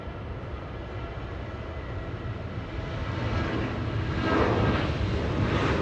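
A Southwest Boeing 737-700 airliner at Los Angeles International Airport, its engines a steady distant roar that swells louder toward the end.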